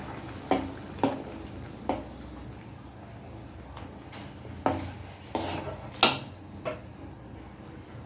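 A spoon taps and clinks against the rim of a pot as ground paste is scraped into vegetables for a homemade soup, giving about eight separate, fairly close knocks over a low background with no talking.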